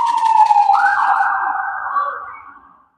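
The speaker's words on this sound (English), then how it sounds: "It's an ambulance." An ambulance siren wails loudly nearby, rising into a long sustained tone, then gradually fades away as the vehicle passes and recedes into silence.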